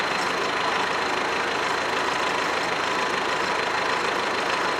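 A tractor engine idles steadily and loudly nearby, a continuous rough rumble with no voices.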